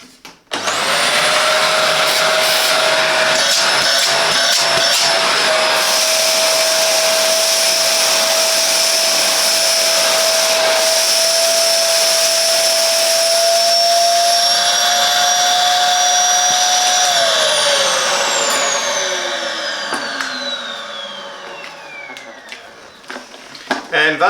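A Philips 1000 Series bagless vacuum cleaner (XB1112) at its single speed switches on with a loud, steady whining roar, holds for about fifteen seconds, then winds down in a falling whine.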